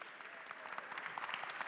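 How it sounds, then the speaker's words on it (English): An audience at a talk on narrative video games applauds continuously, a dense, even patter of many hands clapping, moderately loud and steady throughout with no voices on top. "give him a round of applause"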